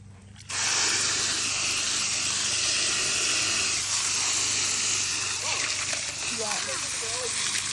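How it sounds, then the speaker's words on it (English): A garden hose sprays water beside a backyard pond being fitted with a DIY bog filter, a loud continuous hissing gush that starts abruptly, with faint voices under it. "You like spraying that water, Jason?"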